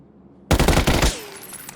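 Automatic rifle fire in the battle game PUBG, a loud close burst of rapid shots lasting about half a second, then a ringing tail as it fades, with no voices.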